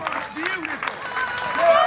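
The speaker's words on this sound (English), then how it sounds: "Let's give him a round of applause, guys" Crowd applause at a Highland Games log press event, a short burst of scattered clapping mixed with a commentator's voice over it.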